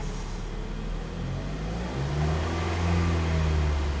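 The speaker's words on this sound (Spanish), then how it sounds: "Entonces, yo voy a acelerar a 2000 revoluciones, fíjese." An automatic-transmission vehicle's engine is revved up toward 2000 RPM, a close, steady mid-pitched drone that climbs and grows louder in two steps, with no talking.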